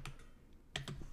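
Typing on a computer keyboard while writing Python code, a few quick clicky keystrokes close by, pausing briefly before a short burst of further presses.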